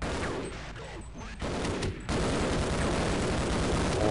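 Gunfire in the video game Half-Life: dense, continuous loud shooting that briefly drops out twice before resuming at full intensity, with no speech.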